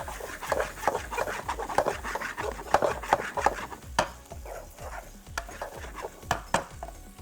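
Carrots and other vegetables for chicken chow mein being sautéed in a pan, a spatula scraping and stirring in a quick steady rhythm with a faint sizzle underneath, close and fairly loud, with no talking.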